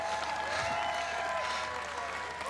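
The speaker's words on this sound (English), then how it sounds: "Put your hands together for our medalists, ladies and gentlemen, in the C1 1000" Steady, dense applause from a large crowd fills the air at a canoe sprint world championships finals ceremony in Montemor, continuous and sustained with no voices over it.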